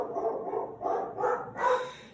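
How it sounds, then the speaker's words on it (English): A dog barks in the background as a mail carrier arrives at a home pottery studio, giving four muffled barks in a steady rhythm, moderately loud and alone. "You can hear my dog in the background."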